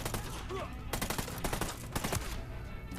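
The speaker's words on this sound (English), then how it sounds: "Who's shooting at me?" Rapid gunfire from a Ghost Recon Wildlands firefight, with dense overlapping bursts and single shots crackling steadily and loudly throughout, some shots close and others more distant.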